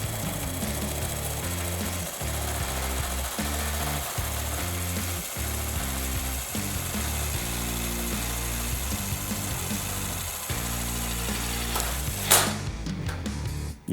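A Ridgid brushless subcompact power tool drives a screw in tightening mode, a close whirring motor with rhythmic pulsing bursts of an impact mechanism over about eleven seconds, then stopping on its own with a sharp final clack.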